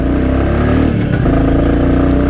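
A 2022 Royal Enfield Classic 350 carrying two riders pulls hard on an open road, its single-cylinder thump loud and close, with a brief dip as it shifts before the note climbs steadily again.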